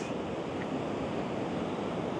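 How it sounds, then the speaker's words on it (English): Steady rushing of white water at Pilot Falls, a small shelf-like waterfall, continuous broadband roar at an even level with no voices. "It's not really a big waterfall."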